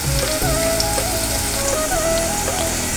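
Chopped onion and chilli fry in oil with a dense, continuous sizzle, loud and close throughout, while faint melodic tones run in the background and no one speaks.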